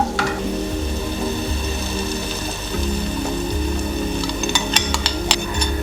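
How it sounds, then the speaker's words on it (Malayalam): Beaten eggs scramble and fry in a pan for a drumstick-leaf egg thoran, a steady sizzle with a low hum beneath and light scraping taps near the end, close up and without talk. "ഇത് നല്ലോണം ഇങ്ങനെ ചിക്കി പൊരിക്കണം"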